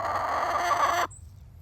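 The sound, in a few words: chickens clucking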